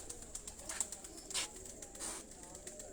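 A golden and dubb cross pigeon coos softly a few times, faint low throaty calls rising over a hissy background in a pigeon loft.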